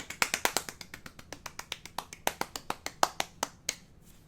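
A single person claps alone in a lively, fairly quick rhythm, sharp distinct claps near and clear that taper off at the end.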